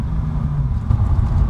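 A 370 bhp Stage 1 tuned Audi S3 saloon pulls away under acceleration, heard as a close, deep engine rumble that swells slightly toward the end, without any talking.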